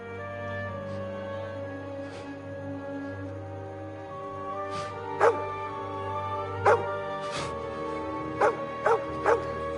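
A dog in the video game Kingdom Come Deliverance 2 whimpers, then gives several sharp barks in the second half, over steady sustained background tones.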